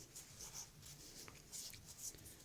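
Sandpaper rubs in quick, repeated strokes across the metal armature of a 2000W LG vacuum cleaner motor, a soft close scratching rasp at a low level.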